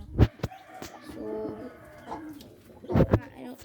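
Pigeons cooing softly close by in a loft near their feeding trough, low murmuring coos between a few sharp knocks and thumps at the start and near the end.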